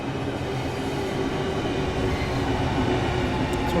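A Southeastern train to Ramsgate pulls into the station, a steady loud rumble of wheels and carriages rolling in close by, with no talk.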